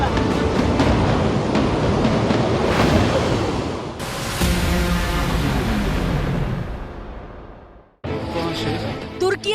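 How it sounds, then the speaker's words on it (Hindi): Floodwater in Turkey roaring and rushing, a loud continuous churning wash with heavy wind buffeting on the microphone and a brief drop in the noise before the torrent surges back. "बाढ़ के पानी की रफ्तार देखिए, उसका जोर देखिए, उसका डराने वाला शोर सुनिए"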